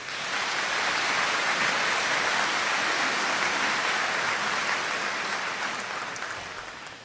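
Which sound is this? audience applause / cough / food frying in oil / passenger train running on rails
audience applause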